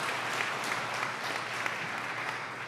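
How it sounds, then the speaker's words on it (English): Gala guests clap for the head table in a steady, fairly distant round of applause that fills the room evenly for a few seconds, with no voices standing out. "let's give a big round of applause to our head table"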